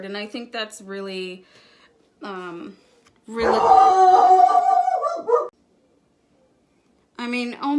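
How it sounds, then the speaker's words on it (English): Dog barking and howling loudly indoors in a short burst between stretches of someone talking, the voice briefly overlapping the barks. "So I'm really sorry about my dog."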